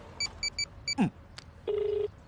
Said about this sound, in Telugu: ఒక నిమిషం ఫోన్ చేస్తా